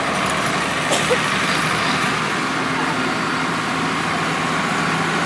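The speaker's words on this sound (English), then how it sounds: "Adam Hamilton right out of Ripley owns this International 1066 from 1971." A 1971 International 1066 tractor, a first-year-of-production model still used on a farm, drones steadily through an outdoor parade, its low engine rumble blending into continuous street noise with voices in the background.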